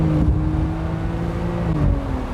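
A BMW E89 Z4 35i twin-turbo roadster accelerates hard toward its 7,000 RPM redline, a loud, rising engine whine with a quick automatic upshift dip near the end, heard from inside the car.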